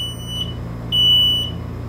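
A smoke detector alarm gives short, high electronic chirps, then one longer steady tone and another chirp, clear and fairly close over a low steady hum with no voices.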